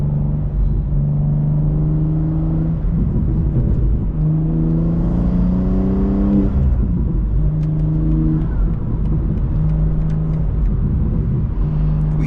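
A BMW M2 and an X3M cruise a New York City highway. A continuous, loud engine drone rises in pitch through the gears and drops at each shift, with tire and road rumble underneath.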